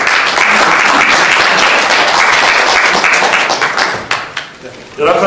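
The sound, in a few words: applause at a members' general meeting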